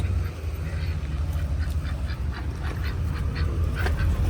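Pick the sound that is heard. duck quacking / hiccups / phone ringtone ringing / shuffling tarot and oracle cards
duck quacking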